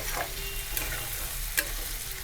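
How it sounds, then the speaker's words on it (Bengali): Steady sizzling of chilies and garlic frying in hot oil, a continuous crackling hiss with a few sharper pops, with no voices. "এগুলো লাল লাল করে ভেজে নেব"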